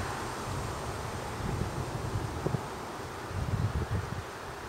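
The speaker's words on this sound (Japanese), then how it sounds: "今日は風吹いてるけど" Wind buffets a microphone outdoors at a fishing spot in Alaska, making a steady low rumble with a few stronger gusts and no talking.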